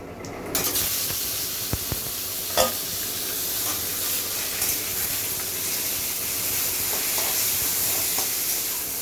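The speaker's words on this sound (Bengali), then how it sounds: "এখন আমি এই কচুর শাকটাকে দিয়ে দেব" Taro greens hit hot oil spiced with cumin, bay leaf and dried red chilli, giving a steady close sizzle and hiss with a few stirring knocks, no talking.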